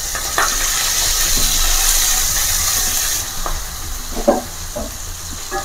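Onions sizzle steadily in hot oil in a pan for a homemade potato and eggplant curry, a constant hiss with a few soft clinks and stirring knocks near the end.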